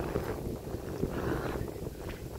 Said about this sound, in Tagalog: Yung simoy ng hangin. Sobrang sarap